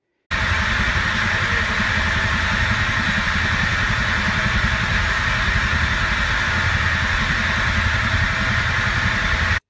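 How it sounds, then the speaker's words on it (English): A lean premix burner flame firing into a tube roars loudly and steadily, a rough, noisy rumble close up throughout with no speech. "but for this particular type of premix firing into a tube, it does sound this way."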